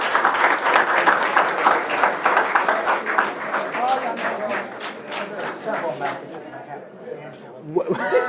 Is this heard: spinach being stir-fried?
no